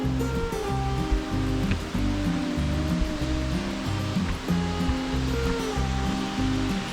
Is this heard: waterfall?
yes